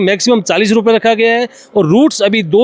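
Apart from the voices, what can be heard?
No everyday noise stands out behind the speech.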